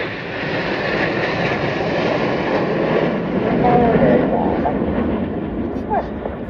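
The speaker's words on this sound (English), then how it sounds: "aircraft slowing now only to 120 miles an hour" Jet display team aircraft flying in formation at the RIAT air show, a loud continuous engine roar sweeping overhead while an announcer talks over the noise.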